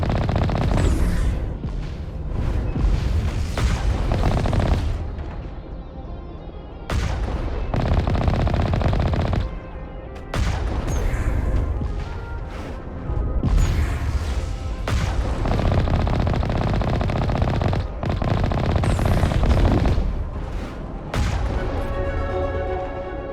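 Gunfire rattles through a Mass Effect: Legendary Edition firefight in loud, repeated automatic bursts with booming impacts, broken by brief pauses between volleys.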